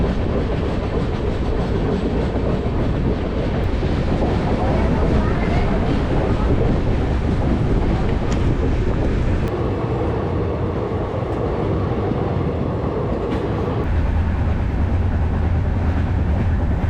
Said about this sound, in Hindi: ये है भाई कोरबा विशाखापट्टनम एक्सप्रेस। ये आ रही है विशाखापट्टनम से, जा रही है कोरबा।